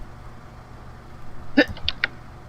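A short sneeze from a person at a tabletop Dungeons and Dragons session, a sharp burst followed by a couple of smaller catches, fairly close over a low steady background hum.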